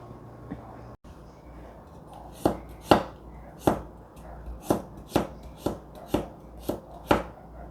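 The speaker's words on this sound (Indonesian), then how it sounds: "Kalau bisa motongnya yang lembut ya" A knife chops ginger on a cutting board while preparing a gambas dish: around ten sharp, evenly spaced thuds ring out close and loud after a quiet start, with no talking.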